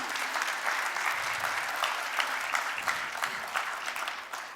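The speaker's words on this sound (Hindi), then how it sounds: "जोरदार ताली बजनी चाहिए दीदी के लिए।" A crowd at a stage event applauds warmly for a sister, sustained clapping with many distinct hand claps, close and lively, running without pause.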